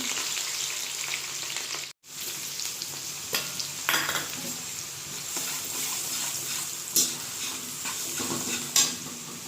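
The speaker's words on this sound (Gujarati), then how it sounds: "અહીંયા આપણે સરસ ફ્રાય થઈ જઈશું તેમાં આપણે લીલા મરચાં નાખી દઈશું" Green chillies frying in a pan, a steady close sizzle with intermittent scraping stirs and a few sharp utensil knocks, briefly cutting out near the start, with no one talking.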